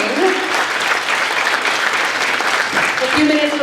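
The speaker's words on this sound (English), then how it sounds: "Everyone give a round of applause for Tasya!" Audience at a 2022 convention panel for actress Tasya Teles bursts into loud, sustained applause filling the room, with a voice speaking over the clapping.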